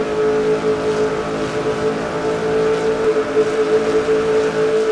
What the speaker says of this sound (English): See how fast Austin's car moves into turn number 1, 181 miles an hour